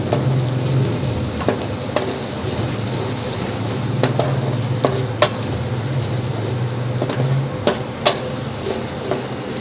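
Onions and green chillies sautéing in a pan, a constant close sizzle with scattered clicks and scrapes of a spoon stirring, no voices over it.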